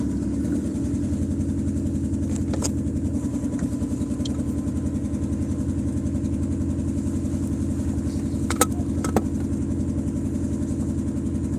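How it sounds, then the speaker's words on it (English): Car engine idling steadily and close for the whole stretch, a constant low throbbing rumble with a couple of faint clicks partway through. "I'm gonna make sure my car starts up again"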